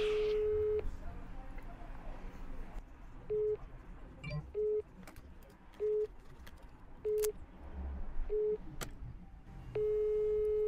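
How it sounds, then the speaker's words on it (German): Repeated short beeps of a telephone ringing out unanswered, a call to a tyre dealer going unpicked, sounding in regular pulses through a handset with faint background noise and muffled talk underneath. "Ich habe jetzt versucht, das dritte Mal den Bernd anzurufen, der geht nicht ans Telefon"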